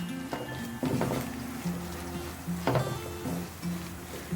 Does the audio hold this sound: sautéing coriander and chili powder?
yes